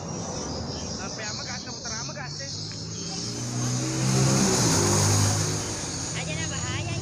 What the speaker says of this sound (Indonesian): di sini kendaraan padat